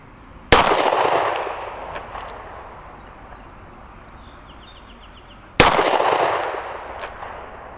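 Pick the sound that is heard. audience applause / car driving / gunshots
gunshots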